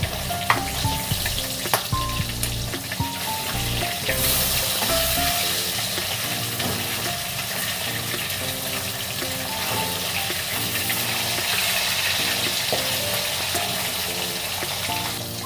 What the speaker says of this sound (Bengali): চলুন মাছটা এক পিঠ উল্টে দেওয়া যাক।